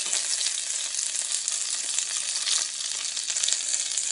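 Mustard seeds, urad dal and curry leaves frying in hot oil, giving a steady, dense sizzle with faint crackle throughout and no talking.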